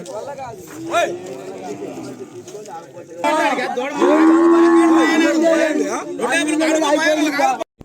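Ongole breed bull calves moo loudly and repeatedly at a busy cattle market in Kodada, Telangana, with long drawn-out calls rising over steady crowd chatter and people talking nearby.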